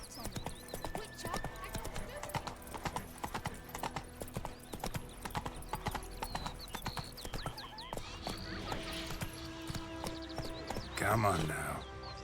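Hooves of Roach the horse in The Witcher 3: Wild Hunt, a fast, regular clip-clop running throughout, with a voice talking over it and a whinny near the end.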